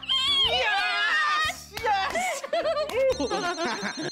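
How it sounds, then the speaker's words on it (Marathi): A telephone rings insistently with a bright, repeating electronic tone for an incoming call in a home, loud and close, with a voice speaking over part of it. "एक मिनिट फोन येतोय."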